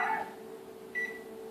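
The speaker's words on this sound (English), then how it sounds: "So I'm going to set my kitchen timer" A kitchen timer is set while bread dough for homemade hamburger buns is kneaded, giving two short, quiet electronic beeps about a second apart over a faint steady hum.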